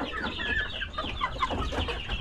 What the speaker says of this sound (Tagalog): Boston Roundhead